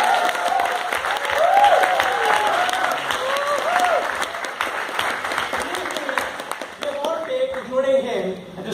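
Audience applause at an indoor talk, a loud sustained roll of many hands clapping with voices and cheering mixed in, tapering slightly after several seconds.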